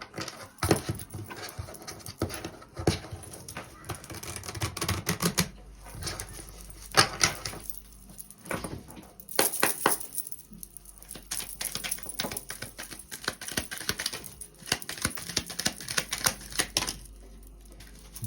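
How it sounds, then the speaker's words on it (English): Small cards riffle and tap in quick, papery bursts, close by. The bursts repeat with short pauses between them. "Give it a quick shuffle."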